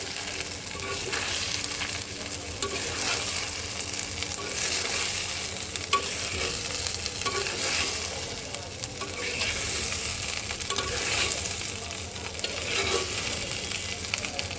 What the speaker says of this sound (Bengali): কিছুটা ভাপ দিয়ে রাখা আলু মটরশুঁটি আর হচ্ছে ফুলকপি সব কিছু একসাথে সুন্দর করে মিক্স করে দেবো